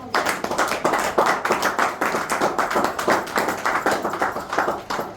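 A church congregation claps rhythmically together to acclaim the Lord, a fast, loud, steady beat of many hands lasting throughout, with no speech over it.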